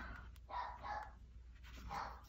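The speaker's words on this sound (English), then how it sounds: "You hear him barking?" A dog barks three times at a distance at a vet's office, short muffled barks spaced about half a second apart, faint against a quiet background.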